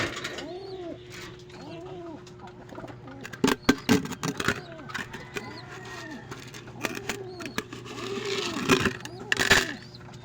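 A newly acquired pet pigeon coos in soft repeated phrases, fairly close, with a few sharp clattering knocks in the middle and faint engine hum behind.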